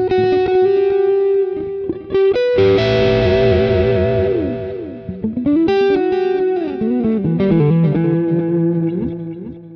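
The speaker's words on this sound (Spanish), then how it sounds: "por acá siempre yo le potencio el delay y le busteo un poco" An Ibanez Genesis RG550 electric guitar plays sustained chords and sliding notes through boosted delay and effects, loud and continuous with echoing repeats trailing each phrase.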